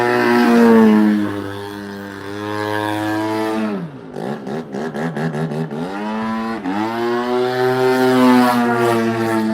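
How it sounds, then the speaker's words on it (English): A small high-pitched RC car engine revs loudly, dips and sputters midway, then climbs again, its whine ringing with a broad outdoor echo off surrounding trees. "hearing the echo of that engine off the trees is insane"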